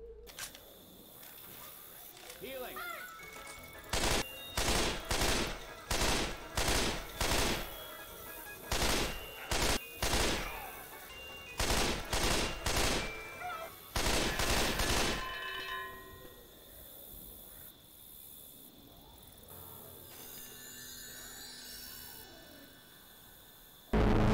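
Video game gunfire at a shooting gallery in Left 4 Dead 2, a run of loud, rapid bursts in quick clusters with brief gaps, over quieter game ambience and some talk.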